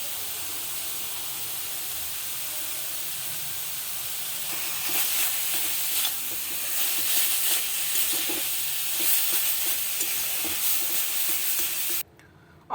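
Beetroot paste with toasted sesame being stirred and fried in a pan, a steady sizzle that grows louder and busier midway with scraping stirs, then stops abruptly near the end.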